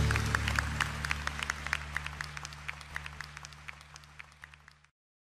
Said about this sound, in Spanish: Démosle un aplauso al Señor en esta noche.